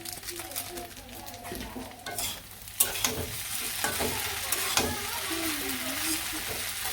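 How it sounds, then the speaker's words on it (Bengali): Pasta stirred and fried in a pan for a breakfast in a village kitchen, with steady sizzling and frying under repeated scraping stirs and a few sharp utensil clacks against the pan. "আজকে পাস্তা রান্না করলাম"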